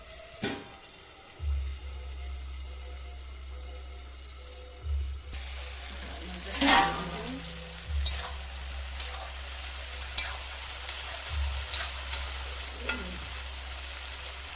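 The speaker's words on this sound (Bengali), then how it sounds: "ঢাকনাটা খুলে চালতাটা নাড়াচাড়া করে দিলাম, আবার ঢাকনা মেরে দিলাম।" Elephant apple (chalta) cooks in a covered pan for a sour chutney. It simmers with a low bubbling hum, and scattered clinks and scrapes come as the lid is lifted and the fruit is stirred, then the pan is covered again.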